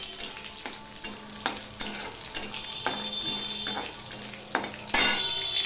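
Dried red chili halves and Bengali five-spice seeds crackle in hot oil, a steady sizzle with occasional louder pops and stirring scrapes, close and alone, during a vegetarian snake gourd curry.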